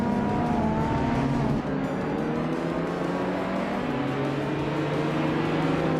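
Street-class race cars, including a 2001 BMW Z3M, starting a race at the Nürburgring Müllenbach track in a video game, with a loud continuous engine roar whose pitch shifts as gears change.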